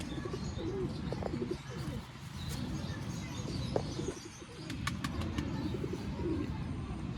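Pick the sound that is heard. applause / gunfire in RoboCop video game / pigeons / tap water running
pigeons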